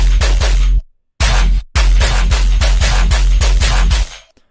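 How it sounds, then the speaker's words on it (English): A layered, synthesized machine gun sound effect fires loud, rapid bursts of punchy shots with deep low thumps. Two short gaps break the bursts before a final tail fades, with no voices. "It's a machine gun sample I made a while ago."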